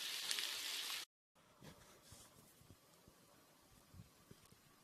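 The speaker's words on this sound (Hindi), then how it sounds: "पैन में अब प्याज गोल्डन ब्राउन करेंगे और गोल्डन ब्राउन होने तक अब प्याज को फ्राई करेंगे" Onions frying in a pan for chicken korma, a steady soft sizzle after an abrupt cut from a brighter, louder hiss at the start, continuing faintly with small pops and crackles and no voices.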